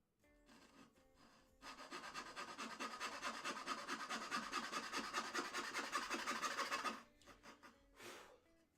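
Wood being sanded or rasped for a spice rack, a run of quick rhythmic scraping strokes lasting about five seconds, with faint rubbing and breathing before and after.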